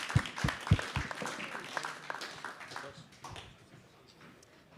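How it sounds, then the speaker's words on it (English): Scattered applause from a conference audience welcoming two speakers onto the stage, opening with a few loud, close claps and then thinning into a softer, uneven patter. "let's give them a round of applause"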